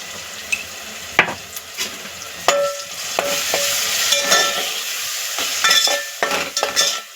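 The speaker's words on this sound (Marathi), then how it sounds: "आता हे मसाले आपण 2 मिनिटं परतून घेणार आहे" Coriander powder, goda masala and salt frying in oil in a pan for spiced rice with fresh pigeon peas, a loud close sizzle with repeated spoon scrapes and clinks against the pan, no voices.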